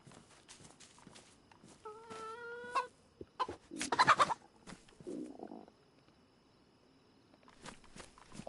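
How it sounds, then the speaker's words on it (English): Chicken in the DayZ survival game gives a short burst of clucking and throaty calls, close and fairly loud, scattered among other brief in-game noises and quieter stretches. "There is a chicken over here."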